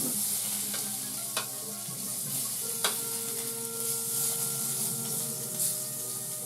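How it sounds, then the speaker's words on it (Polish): Butter sizzles and fries in a pan with a steady, gentle crackle, broken by a few sharp clicks of a utensil stirring, close and fairly quiet with no voices. "Na razie rozpuszczałem masełko"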